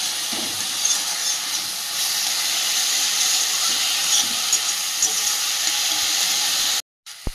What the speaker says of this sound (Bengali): সবজিটা ভালো করে কষিয়ে নিয়েছি